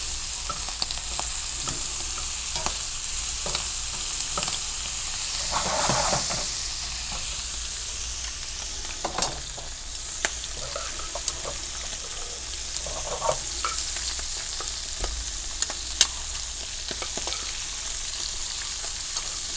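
Almonds fry in butter in a pan with a dense, steady sizzle. Occasional scrapes and taps from stirring punctuate it, close and even in level across the long stretch, with no voices.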